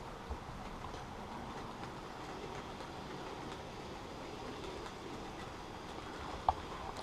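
A small Santa Fe model railway train runs along its track, giving a steady, faint, even rumble with a light click near the end and no voices.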